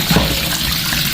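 Eels being washed in water give a brief, close and loud sloshing, splashing rush of liquid.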